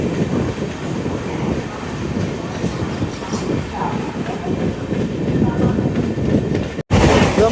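From aboard the Rajdhani Express, the train's wheels and carriage rumble steady and close as it pulls out of a station at speed, with a dense clatter throughout and a brief dropout near the end.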